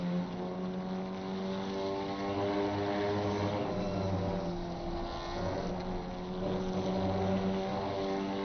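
Several GT4 race cars circulating at Laguna Seca in a racing video game, engines humming in a continuous layered drone whose pitch rises and falls slightly as cars accelerate and lift.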